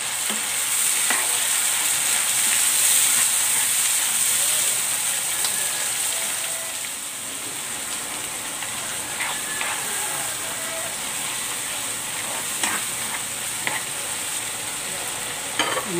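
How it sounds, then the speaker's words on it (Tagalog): Tomatoes sautéing in a pan with shrimp paste on the way, a loud continuous sizzle with intermittent stirring scrapes and taps, easing slightly after the first few seconds. "igigisa ko na rin dito itong kamatis"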